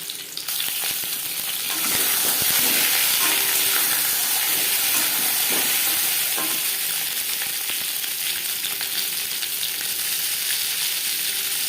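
Eggs fry in hot refined oil in a pan for an egg curry, giving a loud, continuous crackling sizzle that swells after the first couple of seconds and holds steady with no talk.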